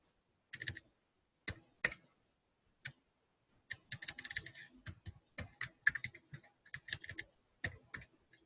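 Short bursts of keystrokes on a computer keyboard as a folder name is typed, a few isolated taps followed by a quicker run of clicks, close and crisp in an otherwise quiet room.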